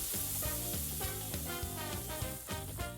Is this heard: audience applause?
no